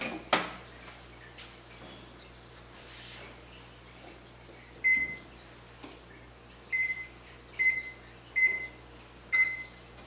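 An oven control beeping as it is set to preheat for brownies in a home kitchen: a run of short, clear electronic beeps at uneven intervals after a single knock, close and fairly loud, with no talk.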